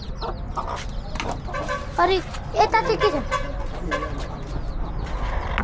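Chickens cluck repeatedly at close range, with a louder burst of clucking in the middle, while a person speaks briefly.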